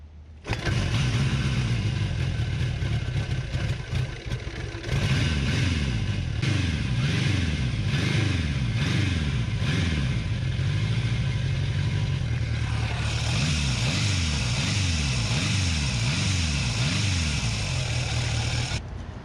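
A vehicle engine, just repaired after an oil pipe failure, starts up and runs loudly close by, then is revved repeatedly in rising and falling bursts before settling back to idle.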